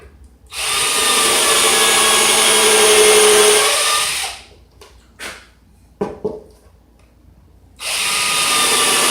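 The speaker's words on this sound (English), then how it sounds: "Get back to our drill here." A handheld power drill whirs loudly and steadily for several seconds, stops amid brief clatters and handling noises, then starts up again at full speed near the end.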